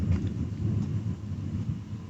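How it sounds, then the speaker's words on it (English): Thunder from a storm rolls as a low, steady rumble that stays continuous and fairly loud for the whole stretch, with no voices over it. "And the lightning and the thunder"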